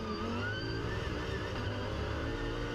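An Audi R8 LMS GT3 race car on a slippery Monza circuit, its engine a steady, fairly quiet drone with a high whine running through it, under no talk.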